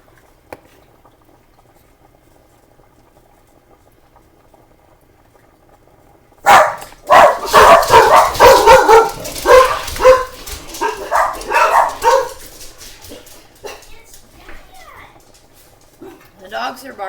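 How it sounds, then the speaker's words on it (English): Dogs bark excitedly at home while pork chops are grilled outside. After several seconds of near silence, a loud, rapid run of barks breaks out, then fades to scattered yaps mixed with voices. "The dogs are barking and going crazy."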